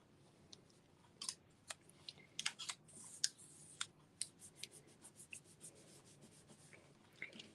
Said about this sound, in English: I'm going to cut mine first.